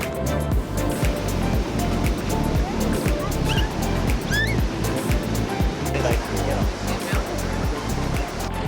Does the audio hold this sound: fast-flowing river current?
yes